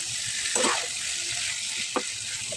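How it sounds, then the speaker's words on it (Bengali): Washed snakehead fish pieces drop onto a spice paste cooked down with water in a pan, giving a soft continuous sizzle with a couple of brief wet splashes and clatters as they land. "নেড়ে চেড়ে কষানো মশলার উপর ধুয়ে রাখা শোল মাছগুলি দিয়ে দিলাম"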